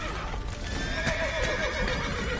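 Horse in The Witcher 3: Wild Hunt near a stable, loudly neighing and whinnying in rising, wavering cries over a constant roaring background, with faint hoof clops mixed in and no talk.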